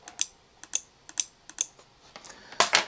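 A WLED MultiRelay board's relays click sharply in a quiet room, about seven distinct snaps at irregular half-second gaps, ending in a denser double burst.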